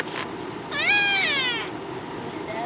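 A Siamese kitten gives one clear, drawn-out meow with a rising-then-falling pitch, close to the microphone over a steady background hiss.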